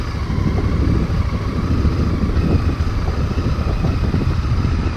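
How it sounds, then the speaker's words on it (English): Honda Varadero XL1000V adventure bike engine running steadily on a green lane, a continuous close, loud low rumble with no talking. "you've got the noise of that engine, the infernal internal combustion engine."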